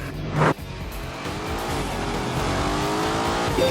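An Aston Martin sports car in The Grand Tour video game accelerates with a steady, rising engine drone and a brief squeal near the start, loud and close, with no talk.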